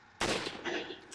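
A single loud, close gunshot from a video game, with a sharp onset and a short rumbling tail.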